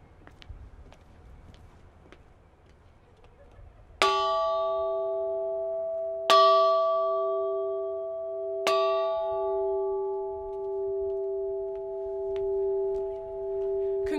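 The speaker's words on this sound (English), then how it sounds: "today, we are closing this chapter through the ringing of our bell" A commencement bell rings three times at Maryville University's 2021 undergraduate ceremony. Each clear, loud strike is spaced about two seconds apart, and its tones hang and overlap in a long, humming sustain after quiet background murmur.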